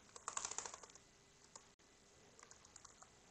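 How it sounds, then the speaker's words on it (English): A computer keyboard clatters with a short burst of quick, quiet keystrokes as a password is entered. A few scattered taps follow against a soft room hum. "Here you need to type the password"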